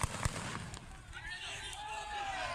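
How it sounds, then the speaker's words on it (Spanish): A couple of sharp gunshot pops from police ring out early during the clearing of a street protest, followed by distant shouting and a rising whistle over crowd noise. "Disparos de la policía en este momento"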